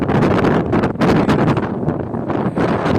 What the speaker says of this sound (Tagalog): Ang lakas ng hangin, guys. Gumit ang hangin sa cellphone.